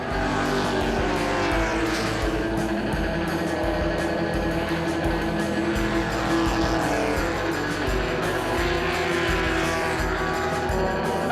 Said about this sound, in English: the 1 hour Trofeo Nastro Rosso is underway with a field of pre-1966 Italian GTs